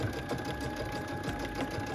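A sewing machine runs a steady, continuous stitch along a seam line on a fabric glasses case, its motor hum and rapid needle chatter holding even and close throughout with no voices.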